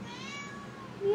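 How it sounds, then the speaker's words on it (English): A pet cat meows in a drawn-out, wavering call, close and clear, ending in a higher, louder rising note. "Meow to you too."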